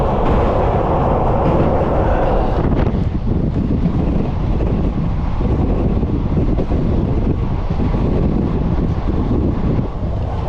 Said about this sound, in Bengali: খেতে খেতে ট্রেন ছেড়ে দিয়েছি